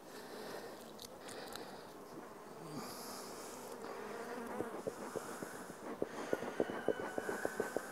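Bees buzz steadily around a hive, forming a dense, droning hum close by, with faint clicks and taps growing more frequent toward the end.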